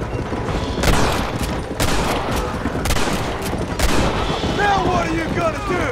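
Repeated gunfire from a Red Dead Redemption shootout, several loud sharp shots spaced across the scene over a dense din of battle, with a voice speaking in between.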